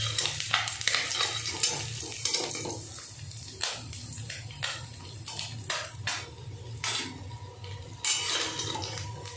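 Fish frying in mustard oil in a wok, a steady close sizzle broken by scraping stirs and clinks of a spatula against the pan, with no talking.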